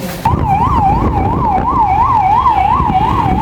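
A loud ambulance siren wails steadily up and down in a fast regular cycle, close by, with road traffic rumbling underneath.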